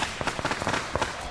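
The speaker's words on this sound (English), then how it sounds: "Welcome home, shouts Shang over the noise of the firecrackers." Firecrackers going off in a village during a homecoming celebration, a rapid string of sharp pops and crackles packed closely together over about a second, moderately loud and without voices.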